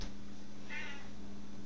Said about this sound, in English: this is my cat Bugaboo eating dog food out of the dog's bin